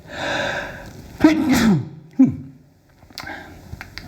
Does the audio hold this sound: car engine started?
no